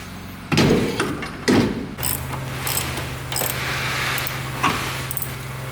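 Bolts being tightened on a welded car differential, with metallic ratchet clicks and clunks of tools against metal, a couple of louder knocks early, over a steady low mechanical hum close by.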